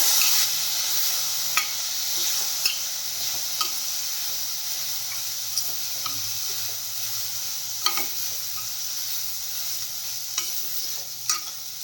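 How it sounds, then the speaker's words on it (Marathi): Soaked kurdai being stirred into fried masala in a pan, with a steady sizzle of frying throughout and intermittent scraping clicks of the spoon against the pan, close and fairly loud, with no talking. "त्यामध्ये आता आपण भिजवलेली कुरडई घालून घेऊया आणि यामध्ये छान अशी मिसळून घेऊया"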